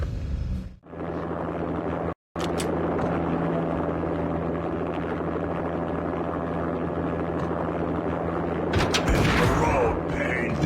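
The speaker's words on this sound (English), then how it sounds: "An armed helicopter just landed on the manor grounds." An armed helicopter in the video game Max Payne drones with a steady, heavy rotor hum over the manor grounds, briefly cut off twice early on, with a burst of crackling noise near the end.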